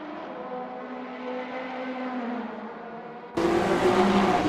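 Race car engines in an Assetto Corsa sim race at Zolder: a steady engine drone that shifts pitch slightly, then a sudden louder, brighter engine roar for the final second.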